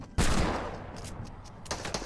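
Gunfire in the video game Fortnite: a sudden close burst of shots followed by a decaying rattle, with a few more sharp shots near the end.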